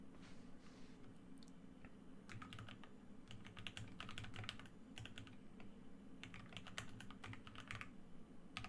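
Fingers type on a computer keyboard in close, quiet bursts of rapid clicking separated by short pauses, with no talking.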